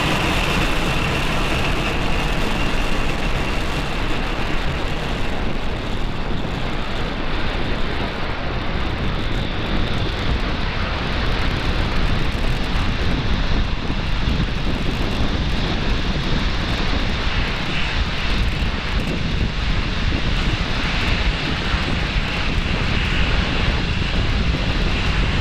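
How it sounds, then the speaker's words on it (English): A SpaceX Falcon 9 rocket lifting off from Florida, its engines producing a continuous, dense, loud roar that stays steady and broad with no pauses. "Ignition and liftoff."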